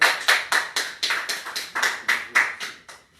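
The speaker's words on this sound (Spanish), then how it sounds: "Palmas para el Señor." Church congregation clapping hands in praise, a steady rhythmic beat of about a dozen sharp, moderately close claps in even time, alone without talk.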